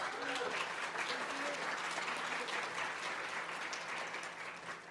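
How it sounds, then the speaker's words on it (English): A conference audience applauds, a sustained full wash of many clapping hands that stays loud and even, with faint crowd murmur beneath, easing slightly at the very end. "Everybody, please, big round of applause for Valeria."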